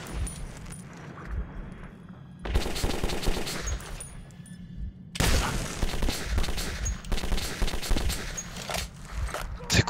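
Gunfire in the video game Metro 2033, loud rapid machine-gun bursts in two long sustained volleys with a short pause between, close and harsh, with clattering mechanical sounds.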